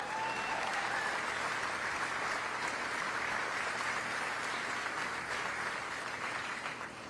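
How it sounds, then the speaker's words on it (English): A crowd applauds workers at Ford's Louisville Assembly Plant, a dense wash of clapping that holds for several seconds before easing slightly at the end. "let's give all these workers one more big round of applause"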